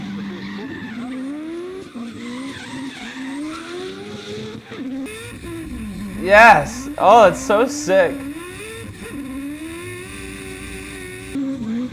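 Drift car with a swapped engine screaming under load, with a clutch kick, revving bursts and loud tire squeal rising to several sharp peaks, while a person talks excitedly over it.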